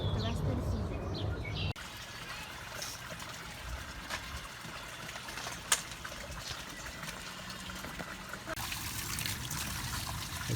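Water trickles and splashes steadily while a garden pond is being refilled, a soft continuous pour with a brief louder gush at the start and faint bird chirps in the background.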